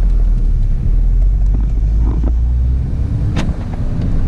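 Stage 1 tuned Volkswagen GTI driving, with a loud, steady low engine and road rumble from inside the car, plus some wind noise and no talk.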